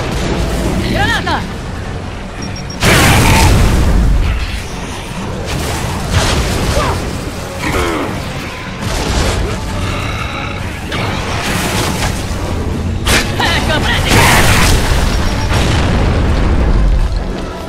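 Gears of War 3 combat with a grenade explosion, heavy booming blasts and rumbling bursts recurring loud and close amid shouted voices and game action.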